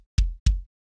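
Two low bass drum hits struck with a foot pedal, heard alone in a jazz drum context, each a deep thump with a short decay and even spacing.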